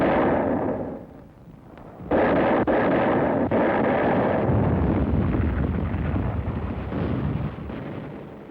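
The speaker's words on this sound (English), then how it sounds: "Artillery, supported by tanks, went to work on the enemy's defensive line." Artillery fire backed by tanks on a WWII Okinawa defensive line, a loud continuous roar of rumbling blasts and sharp impacts merged into dense, sustained battle noise.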